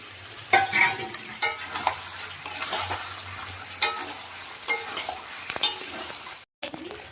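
Ground ginger paste goes into hot oil for an Odisha-style chicken biryani, sizzling steadily while a spoon stirs and clinks against the pan in irregular bursts, close up, with a brief dropout near the end.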